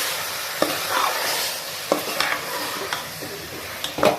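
Mutton sizzles in hot oil while being stirred for a Telangana-style mutton curry, with steady frying hiss and a few sharp scraping clacks of the spoon against the pan.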